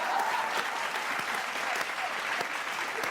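An audience at a live Hindi comedy poetry show claps in dense, sustained applause, a steady roar of many hands heard throughout without a break.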